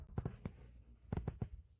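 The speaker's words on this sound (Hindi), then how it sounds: "मुझे पटाखे देखना बहुत पसंद है।" Fireworks go off in two clusters of three sharp bursts each, faint and distant-sounding, separated by a brief pause.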